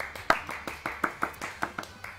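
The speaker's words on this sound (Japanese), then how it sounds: "拍手。" A single person clapping hands about a dozen times in a quick, slightly uneven rhythm, close and fairly dry, each clap distinct and crisp.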